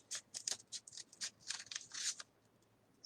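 Scissors cut through a stack of folded paper sheets to shape a ghost, a close run of crisp, rustling snips in quick bursts with short pauses, then silence at the end and no talking.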